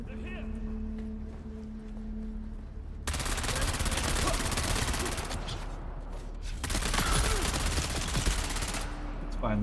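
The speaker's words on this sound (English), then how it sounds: "I'm gonna machine gun him." Machine gun fire in a Dune video game comes in two long, dense bursts of rapid loud shots, separated by a short pause. Game sounds are also present.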